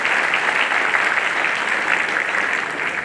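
Steady applause from the audience welcoming guests from Zimbabwe at a trade and investment event, dense and continuous throughout, close and loud with no break.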